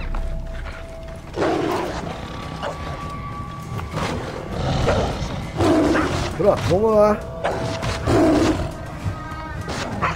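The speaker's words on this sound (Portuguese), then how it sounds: "Leões versus hienas." Lions and hyenas fight in a video game, with repeated roars and snarling bursts in an uneven rhythm, mixed with whoops and yips, while someone talks throughout.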